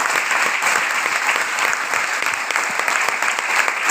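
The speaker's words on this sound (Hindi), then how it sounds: "तो एक बार जोरदार ताली और लास्ट ताली आप लोगों को मिलेगी।" Steady, loud applause from a seminar audience fills the whole stretch, dense rapid clapping with no voices over it.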